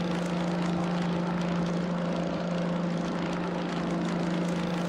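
A Grumman F2F propeller fighter in a flight simulator climbs after takeoff, its radial engine giving a steady, loud, unbroken drone with a strong low hum.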